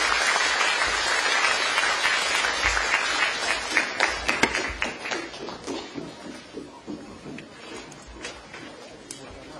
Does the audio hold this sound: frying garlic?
no